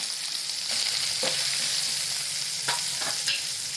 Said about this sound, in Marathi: याच्यामध्ये कांदा नरम करून घ्यायचा